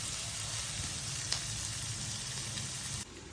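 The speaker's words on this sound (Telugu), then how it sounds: "ఉల్లిపాయలు ఇలా వేగుతున్నాయి కదా" Sliced onions fry in a pan for a broad-bean garlic chilli dish, giving a steady, fairly loud sizzling hiss that carries evenly through the clip with no voices.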